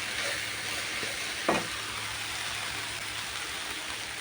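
Food fries in a pan with salt and turmeric while being stirred, a steady hissing sizzle with a single clear clink of the spoon early on.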